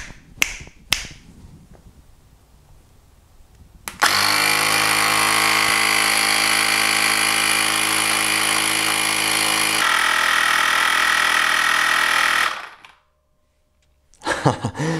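A Cycplus A7 electric bicycle pump runs with a loud, steady motor whine and buzz for about eight seconds, starting abruptly after a few clicks and then cutting off, with button clicks at the start and end.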